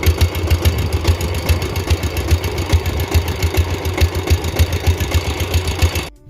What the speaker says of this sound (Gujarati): અહીંયા ટ્રેક્ટર હાલે